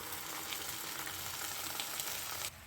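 Steady loud sizzling of tomato paste frying in hot oil for dal makhani, a dense crackle throughout that drops off abruptly near the end.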